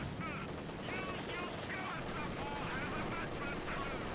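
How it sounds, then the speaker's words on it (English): MG42 machine gun fire in a Company of Heroes 2 match, steady rattling bursts set within a dense, continuous wash of battle noise, with a commentator talking over it throughout. "Vet 3 MG42 getting some great suppression here"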